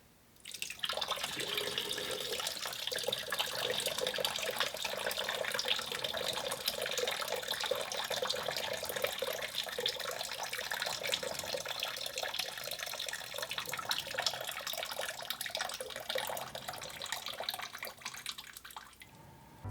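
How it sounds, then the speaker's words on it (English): Water steadily draining and pouring out of a film developing tank, a continuous close hiss of running liquid that lasts nearly twenty seconds without pause or speech. "by far the biggest design flaw is just how long it takes to drain the tank"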